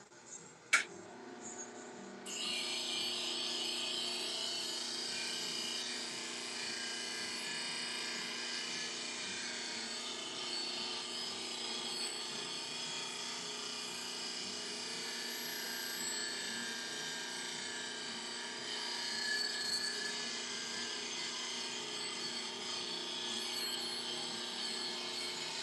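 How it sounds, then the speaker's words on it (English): A powered sharpener grinds a woodturning lathe tool, giving a steady, high-pitched whine and hiss that continues unbroken after a brief click at the start. "It's going to take just a few seconds to get sharpened right."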